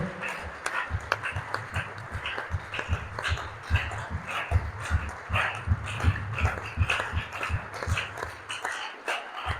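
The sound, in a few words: congregation applauding and cheering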